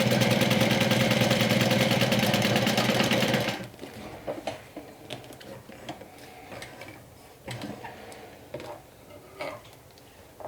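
A sewing machine stitching through thick vinyl on a cosmetic bag runs loud and steady for about three seconds, then stops, leaving faint ticks and light handling clatter.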